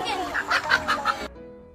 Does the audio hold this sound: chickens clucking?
yes